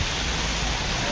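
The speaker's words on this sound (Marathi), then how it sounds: "आज मुंबईला पाऊस पडला आहे" Steady rain falls in Kandivali, Mumbai, a dense, even hiss with no distinct drops, running loud and continuous for about a second with no talking.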